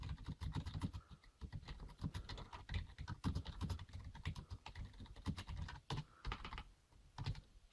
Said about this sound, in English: and so we do some typing.